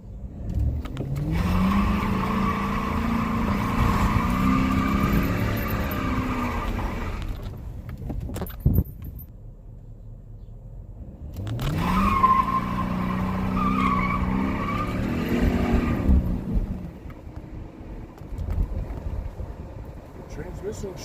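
A 2006 Dodge Magnum with a newly swapped transmission accelerates hard on a test drive in two loud bursts, the engine rising in pitch while the tires squeal, with a quieter gap of cruising between them.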